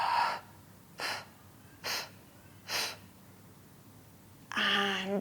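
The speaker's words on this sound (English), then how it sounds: "I'm going to breathe in and fix, and then I'm going to flex, and I'm going to do 4 breathing out with an increase" Controlled exercise breathing during a mobility session: four short, sharp breaths out in a steady rhythm, each separated by quiet, then a longer, louder breath with a voiced tone at the end, close to the listener.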